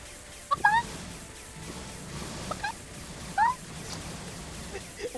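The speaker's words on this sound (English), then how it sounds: "Why does he have to be chicken sounds?" Chicken-like clucks from the video game Phantasy Star Online 2 come in three short, bright squawk bursts over a low game background hum.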